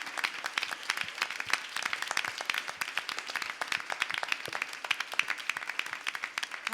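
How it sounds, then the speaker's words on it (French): A church congregation at a Sunday service applauds continuously, a dense crowd of hands clapping with a faint cheering wash, steady and fairly distant throughout. "Acclamez encore plus fort pour le rendre gloire."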